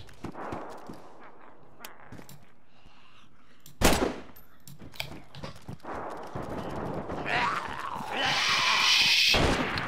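Gunfire in the video game H1Z1 comes as a few sharp shots and short bursts, one loud crack standing out among scattered pops, with game ambience and a rising noisy roar toward the end.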